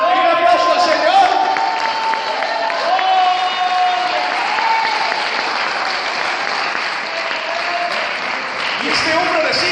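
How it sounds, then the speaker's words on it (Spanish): Steady applause from a church congregation fills the space, with some cheering mixed in and voices running over it throughout, then easing toward the end. "Un aplauso al Señor"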